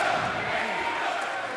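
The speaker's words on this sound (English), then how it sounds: "Listen to our compassionate crowd here." A crowd in a wrestling arena roars and cheers, a dense broad wash of voices that stays loud and steady through the brief moment.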